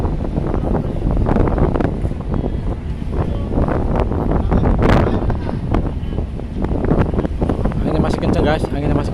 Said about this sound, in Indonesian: Anginnya masih kenceng guys, anginnya masih kenceng banget.